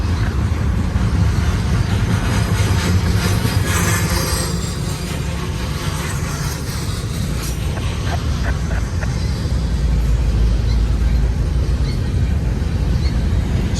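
A long BNSF freight train rolls past at close range, a steady, loud broadband rumble of wheels and cars that holds unbroken throughout, with no voices.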